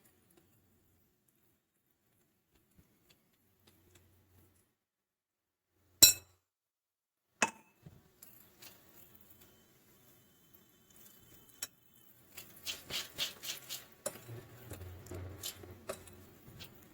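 A fork mixes molasses cherry cake batter in a bowl, with two isolated clinks followed after a pause by a run of soft, quick tapping and scraping, faint and close.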